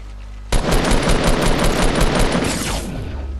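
Rapid automatic gunfire in Fortnite: a loud, close burst of evenly spaced shots lasting over two seconds, starting abruptly and tailing off, with no one speaking.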